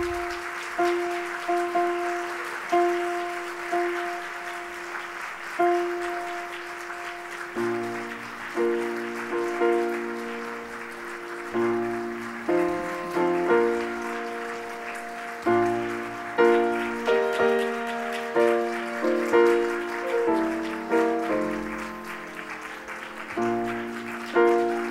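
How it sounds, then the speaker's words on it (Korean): Wedding guests clapping for the bride's entrance at a church wedding service, the applause running steadily beneath prominent organ or keyboard music that carries a slow processional melody throughout. "하객 여러분들의 열렬한 박수 부탁드리겠습니다"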